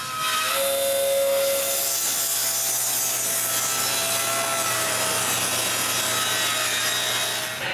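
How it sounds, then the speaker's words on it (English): Walnut board being ripped thinner by saw, a steady continuous broadband cutting rasp held close and loud for the full length with a faint low motor hum beneath. "But my wood is way too thick. I rip it thinner."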